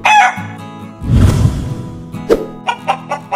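A rooster crows loudly nearby, followed by a rough burst of noise and a few short clucking calls.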